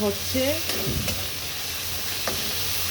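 Shrimp frying in a pan with onions, a steady close sizzle under brief stirring scrapes and clatters.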